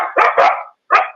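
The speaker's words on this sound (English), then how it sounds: "look at the puppies" Puppies at a rescue event let out three quick, close, loud yips and barks, the first two in rapid succession and the last after a brief pause.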